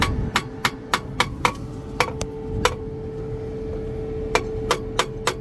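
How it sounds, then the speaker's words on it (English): A hammer lightly taps a stuck car starter, giving about a dozen sharp metallic clinks in short irregular bursts over a steady mechanical rumble from a nearby cement truck. "I'm just going to take this hammer and lightly tap on it and try to get it to start up by getting the gear unstuck in the starter"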